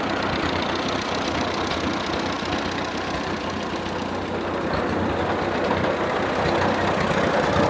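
A 1938 Case RC tractor engine idles steadily, a dense, rough, knocking rumble that stays close and loud throughout with no voices.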